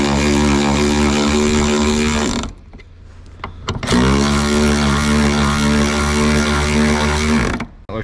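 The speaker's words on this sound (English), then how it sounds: "Probably shouldn't be using a cordless ratchet for an actual breaker bar" A cordless ratchet whines loudly and close while backing out truck back seat bolts: a long, steady motor drone, a pause with a few clicks and clatters, then another sustained run that cuts off.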